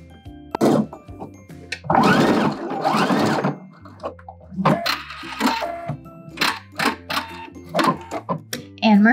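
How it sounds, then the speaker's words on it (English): A sewing machine hems a sleeve opening on a cowl neck top in short bursts of whirring, broken by clicks, thunks and handling noises, with stops and starts throughout. "So just flipping it up a half inch and sewing all the way around the sleeve opening."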